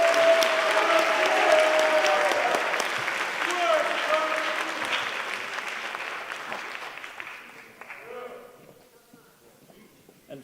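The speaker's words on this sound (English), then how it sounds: "Let's give these cadets a round of applause." An audience at a Parent's Day presentation applauds cadets, a dense round of clapping with cheers and voices mixed in that gradually fades out over about ten seconds.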